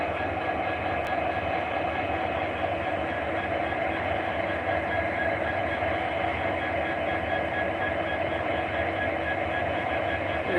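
A long freight train of 65 wagons rolls into a small rural station, its steady, dense rumble and rail clatter continuing unbroken and fairly close throughout, with no voices.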